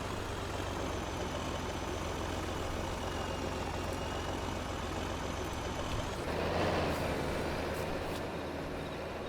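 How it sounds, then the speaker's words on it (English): Tractor in Farming Simulator 22 heading to a sawmill: a steady idling diesel engine drone with a low hum, followed by a short hiss and a shift in engine tone, alone without talk. "We'll get this tractor sent up to our sawmill because it's got the proper forks on it"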